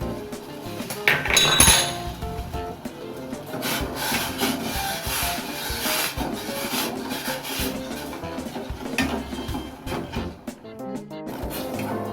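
A spoon scraping and rubbing against a pot while sugar is stirred into warm water for gulab jamun syrup, with steady close scraping strokes and faint clinks, no talk.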